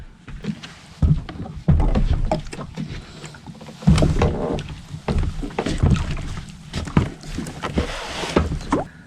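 Kayak paddling through the Okefenokee Swamp: irregular close splashes and knocks of paddle strokes against the water and hull, fairly loud and uneven, with no talking.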